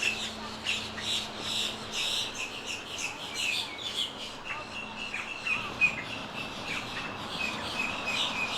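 Several birds chirp and tweet busily and continuously at moderate distance, with steady background hiss and a faint low hum underneath; a voice may murmur briefly.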